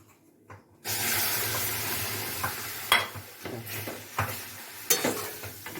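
Milk poured into a pan of fried semolina while cooking sweets sets off a loud, steady sizzle and hiss, broken by stirring scrapes and clinks of the utensil against the pan.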